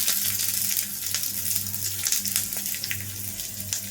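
Green and dried red chillies sizzle in hot oil as tempering for a moong dal kosambari salad, a steady bright crackling hiss with occasional louder spits, close up and without talk.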